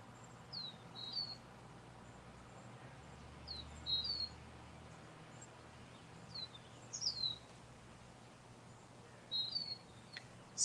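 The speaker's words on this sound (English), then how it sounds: "Can you guys hear the birds?" Small birds chirp in short, thin, high tweets scattered every couple of seconds over a faint, steady outdoor hush, at moderate distance with no talking.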